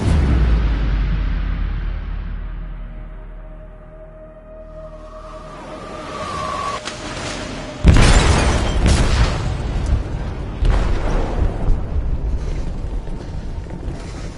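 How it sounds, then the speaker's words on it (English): A game explosive goes off in a ship's hold in Detroit: one sudden loud boom partway through, then a rumbling roar and crashing debris that carry on to the end over a low drone. "They detonated an explosive in the hold. The ship is sinking, sir."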